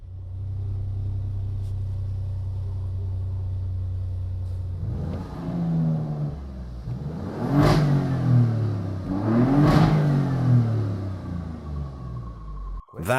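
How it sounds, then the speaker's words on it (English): Alfa Romeo Giulia GTA idling with a low rumble before two sharp, loud revs that climb and fall back, its exhaust note close and alone with no talking. "That is the voice of the new Giulia GTA."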